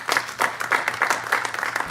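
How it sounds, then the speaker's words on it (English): Audience applause at a community talk on pipelines in Buckingham County, Virginia, a burst of many hands clapping in dense uneven waves, close and loud, with no voices over it. "I should have put that first with that kind of applause"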